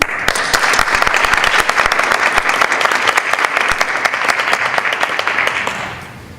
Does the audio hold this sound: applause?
yes